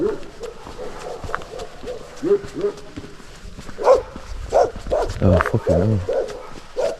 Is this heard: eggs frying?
no